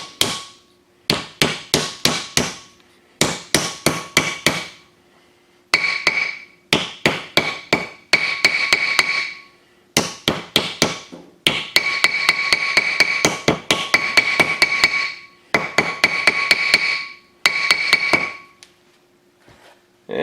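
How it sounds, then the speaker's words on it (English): A hammer taps a wheel bearing seal into place on a Ford F150, in repeated sharp metallic strikes grouped into quick bursts of several blows with short pauses between, loud and close with no talking. "I usually just tap them down with a hammer."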